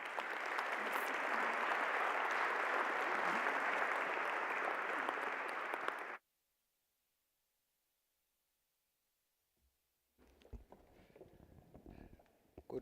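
Sustained applause from a large audience at a GEO Week ministerial summit in South Africa, filling the hall steadily for about six seconds before cutting off to silence, followed by faint movement and murmuring.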